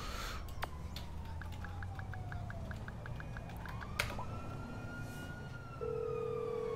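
An ambulance siren in the video game GTA 5 wails steadily throughout, with repeating rising and falling tones over a constant background hum; no one talks.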